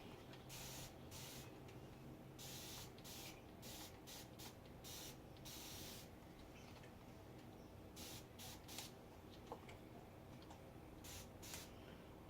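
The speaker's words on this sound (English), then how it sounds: "All right, and then let's spray." Repeated bursts of spray paint hiss in short and longer blasts onto a china cabinet, separated by pauses, over a steady low background hum.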